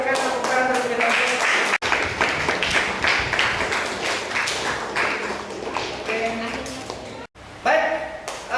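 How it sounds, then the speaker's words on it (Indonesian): A group of students in a classroom clap together, with brisk irregular claps layered over chatter and voices. The clapping stops briefly twice, then starts again. "Silakan berikan tepuk tangan terlebih dahulu."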